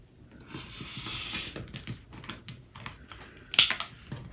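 A rotary cutter slicing quilting fabric on a cutting mat for a Grecian square quilt block, heard as soft scraping strokes followed by one sharper close click near the end, with no talking.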